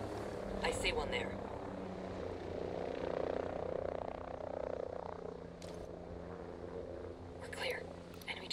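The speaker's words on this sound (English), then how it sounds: "Enemy chopper's out of range." Enemy helicopter in the video game Ghost Recon Breakpoint, a low continuous rotor drone rumbling under game sounds and voices, with a few brief sharp noises breaking in.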